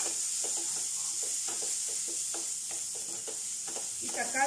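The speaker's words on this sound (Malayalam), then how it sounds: "നമുക്കിതിലേക്ക് അരിഞ്ഞു വെച്ചിരിക്കുന്ന തക്കാളി ഇട്ട് കൊടുക്കാം." Chopped tomatoes hit a hot pan of fried rasam powder for tomato rasam, setting off a steady, close sizzle and hiss that runs throughout, with faint stirring clatter underneath.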